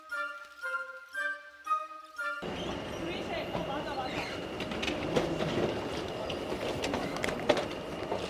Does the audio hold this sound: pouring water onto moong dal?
no